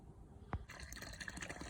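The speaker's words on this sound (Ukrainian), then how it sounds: "Далі виконую поливи." Water poured from a bucket onto a newly planted grape seedling in autumn, a broad splashing gush starting abruptly after a brief knock and continuing steadily, close by, with no talk.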